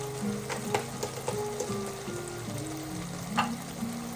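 Egg bhurji sizzles softly in a pan as turmeric, red chili powder and garam masala are stirred in, with a low, continuous frying hiss and light spatula scrapes.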